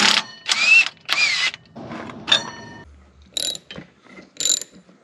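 Pulley being fitted onto a 1953 Kenworth bus with a stripped hex end: close metallic clicks, ratcheting and clanks in irregular bursts, with a few sharp metal scrapes, alone without talk.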